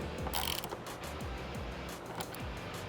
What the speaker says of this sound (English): once this last bolt is tightened down, you are good to go